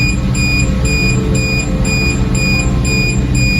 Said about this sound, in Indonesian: Itu notifikasi alarm kalau ternyata angkanya melebihi dari standar tadi